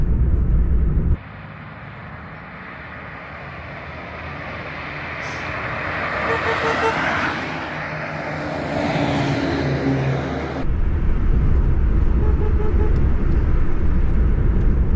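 A golf cart fitted with a Citroën AX engine speeds downhill, with loud wind and engine roar building and swelling in the middle before a sharp cut back to a steady rumble.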